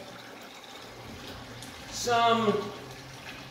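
Aquarium water siphoned from a fish tank through a tube into a bucket, a brief gurgling splash of running water rising midway, with someone speaking over it.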